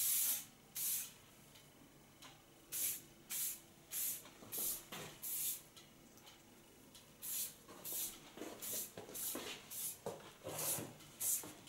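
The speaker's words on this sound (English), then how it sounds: "Get myself a nice soft Lanza hairspray." Soft Lanza hairspray hisses onto a styled black bob in a run of short bursts, each a sharp spritz separated by pauses, some coming in quick clusters, close and clear with no talking.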